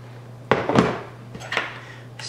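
A spoon clinks and scrapes against a cup while stirring instant coffee, a few close, bright knocks over a faint steady hum.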